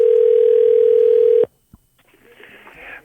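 A steady telephone call tone sounds loud and continuous for about a second and a half while dialing back an apartment office, then cuts off, followed by a click and faint line noise.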